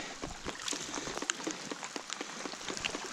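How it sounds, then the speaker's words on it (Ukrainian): Heavy rain falls on a riverbank and boat during pike fishing on the wild Zbruch River, heard as a quiet, constant patter of drops with scattered sharper taps nearby. "Такий дощ періщі"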